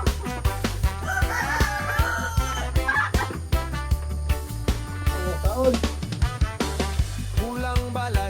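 Rhode Island Red and Black Australorp chickens, with a rooster crowing and hens clucking over a steady musical backing, calls recurring through the stretch at moderate loudness.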